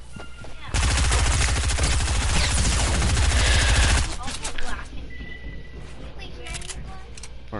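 Dense rapid automatic gunfire in a shooter video game, a loud continuous burst of a few seconds followed by scattered quieter shots and clicks.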